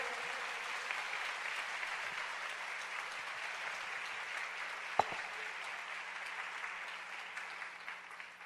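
A church congregation applauds steadily and evenly at moderate distance, a dense wash of clapping with no voices, holding through to the end.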